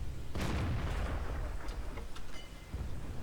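A heavy tank gun fires in a tank battle game, one deep booming shot that rumbles and decays, followed by fainter distant cracks.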